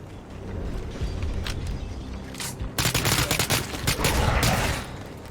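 Suppressed MP5 SD submachine gun fire in a video game, a dense rattling burst of rapid shots following quieter mechanical handling noises, close and loud.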